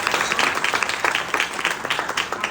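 A church congregation claps together, a lively burst of many hands with a loose, slightly rhythmic patter that stays fairly loud throughout.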